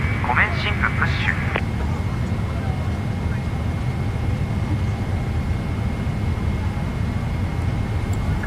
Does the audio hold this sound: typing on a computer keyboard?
no